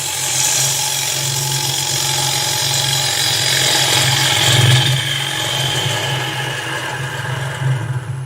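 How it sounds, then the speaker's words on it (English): A gouge cutting wood on a lathe, a steady whirring hum from the spinning wood and motor with a rough, gritty scraping that swells as the tool is pushed in, close and continuous. "There's a bit of noise now because I'm pushing the gouge."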